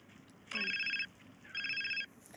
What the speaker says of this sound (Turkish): Bakın telefon zəng eləyir.